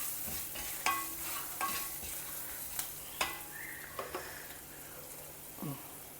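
Onions fry in a pan for a South Indian vegetable dish, a soft steady sizzle broken by scattered scraping and clinking of a spoon as they are stirred, with no talking.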